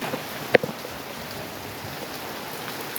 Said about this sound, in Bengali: চলে আসছে বৃষ্টি